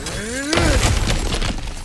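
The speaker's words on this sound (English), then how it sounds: "back to smashing through things for fun and profit" A breakable obstacle in God of War Ragnarok smashes apart with a loud, sharp shattering crash, then crumbling debris trails off, with a voice heard before the impact.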